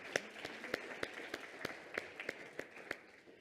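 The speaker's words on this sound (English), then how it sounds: "can we just give you a little round of applause?" A small, faint round of applause for volunteers at a church gathering, only a few scattered hands clapping in a sparse irregular rhythm.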